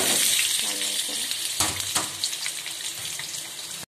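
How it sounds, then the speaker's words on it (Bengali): Potatoes frying in hot oil in a wok, a loud, constant crackling sizzle close by, broken by a few scraping knocks as they are turned. "তেলটা গরম হলে আলুগুলো দিয়ে ভেজে নেব"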